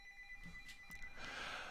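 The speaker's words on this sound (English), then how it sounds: "Damn, my phone's ringing" A phone ringing faintly in the background, with steady electronic tones and a brief burst of rustling, heard alone without speech.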